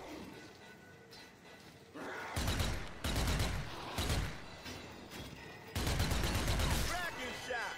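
Bursts of heavy gunfire rip through a zombie shooter, Zombie Army 4, with loud clustered volleys cutting in and out over a rumbling battle backdrop and faint voices beneath.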